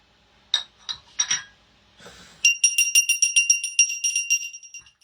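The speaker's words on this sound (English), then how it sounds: "I'm ringing the bell for stupidity." A small hand bell is rung in a rapid, steady series of bright metallic dings for about three seconds, clear and close. A few softer clinks and rustles come first.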